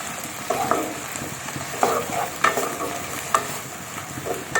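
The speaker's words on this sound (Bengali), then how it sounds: "টমেটো আর পেঁয়াজটা দিয়ে আমি এবার ভালোভাবে কিন্তু একটু নাড়াতে থাকবো" Tomato and onion frying in a pan as a spoon stirs them, a soft continuous sizzle broken by scraping knocks and clacks at irregular intervals, close up with no voices.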